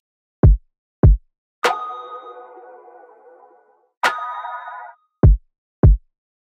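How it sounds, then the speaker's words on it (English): A sparse, simple drum pattern for alt or dark pop: deep punchy kicks in pairs alternating with two resonant, ringing snare-like hits that decay slowly, loud and isolated. "This is how the drums sound."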